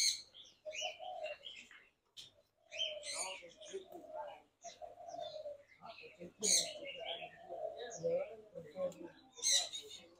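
A black myna calls in a bird shop at an ornamental animal farm in Bac Ninh, giving close bursts of squawks, whistles and chattering notes separated by short pauses, against a quiet background hum.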